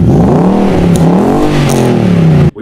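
A Nissan Y62 Patrol with a custom exhaust revs hard and close, its deep, throaty engine note rising and falling across several pulls before cutting off abruptly near the end.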